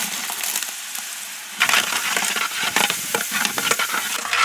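Half a kilo of green chillies frying with kasuri methi in a pan, a loud, steady sizzle with rapid scraping stir strokes that grow busier partway through, close up and with no talking.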